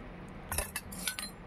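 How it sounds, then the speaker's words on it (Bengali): Tea strained into a cup in a home kitchen, with a few light clinks of metal and glass in quick succession over a quiet background. "এই দেখুন চাটা হচ্ছে ছেঁকে নিচ্ছি।"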